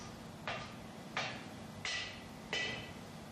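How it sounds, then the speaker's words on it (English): Four evenly spaced, sharp metallic taps ring out as a hammer and protection block drive seal ring components into place during the overhaul of an Alfa Laval WHPX separator, each followed by a short ring, in a quiet workshop. "using a protection block and hammer, these components can be gently tapped into place."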